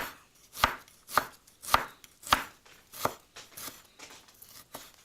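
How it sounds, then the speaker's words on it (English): A knife thinly slicing ginger on a cutting board: five or six crisp, evenly spaced chops, close and clear, with quiet gaps between strokes. "thinly slice your ginger if you can"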